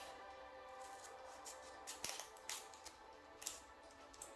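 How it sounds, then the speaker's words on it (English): Large scissors snip through diamond painting material in several sharp, quiet clicks and cuts spaced irregularly over a few seconds, with no talking. "I need my big scissors for this"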